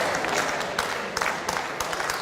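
Crowd applauding a combination shot at a 9-ball pool match, World Cup of Pool 2017, England B versus Indonesia: steady, dense clapping from a sizeable audience at moderate distance, with a few sharper claps standing out.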